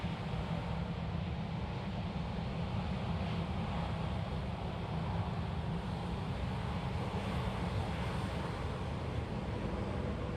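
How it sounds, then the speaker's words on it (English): A domestic airliner departs Sydney Airport in the morning, its jet engines giving a steady, broad roar that holds unchanged for the whole stretch at moderate distance, with some wind noise and no talk. "Plenty of domestic departures getting underway now this morning."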